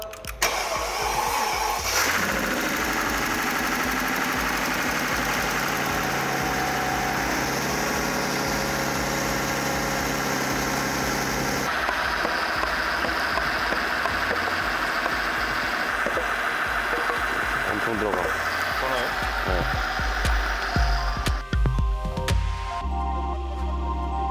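A Mercedes W221 S600 with a 170,000 km V12 that has an engine fault cranks and fires up, then settles into a loud, steady idle with a shift in tone midway and some clatter near the end.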